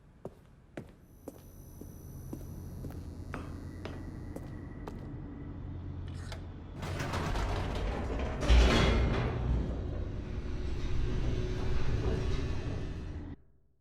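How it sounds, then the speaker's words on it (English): An elevator descends in The Stanley Parable, starting with a few light clicks and then a steady mechanical rumble that grows louder and rougher partway through before cutting off abruptly. "The elevator raced downward, plummeting towards an unknown fate"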